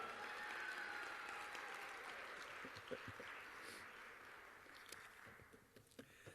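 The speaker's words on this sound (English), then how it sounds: "Let's give him a nice round of applause" Faint, distant applause from the audience at a 2015 spelling bee, a soft blur of many hands that thins out over several seconds, leaving scattered individual claps near the end.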